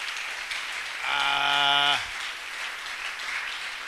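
A church congregation applauds at a prophet's sermon: a faint, steady wash of clapping runs throughout, and a long held tonal cry rises above it for about a second midway.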